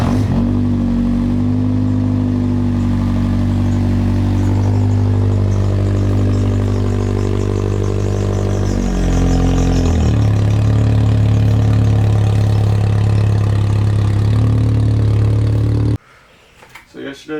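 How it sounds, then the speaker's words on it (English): A Honda Civic engine runs steadily at idle and then shifts in tone as the car is driven out, a continuous close mechanical hum that cuts off abruptly near the end. "But first, we're gonna pull this car out."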